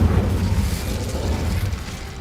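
An Incendio fire spell is cast in the video game Hogwarts Legacy, a deep, rumbling whoosh of flame that bursts at once and holds as a heavy low roar for about two seconds, loud and close with no talking.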